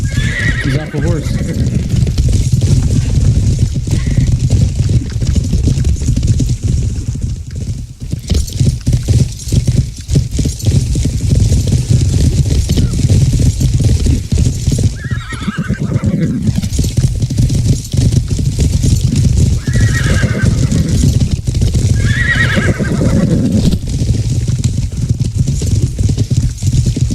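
Horse neighs and hooves clip-clop amid battle in the medieval game Life is Feudal, with repeated whinnies standing out over a dense, loud background of game noise, and a voice talks throughout.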